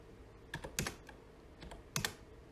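Keys clatter on a computer keyboard as a command is typed, with two short bursts of close, crisp clicks separated by a quiet pause.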